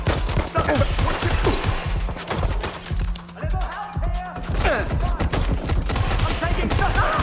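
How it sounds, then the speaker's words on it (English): Gunfire cracks and crashes through a Watch Dogs: Legion firefight: loud, irregular shots and impacts come in clustered volleys with a few short gaps between them. "I'm taking shots. Open fire."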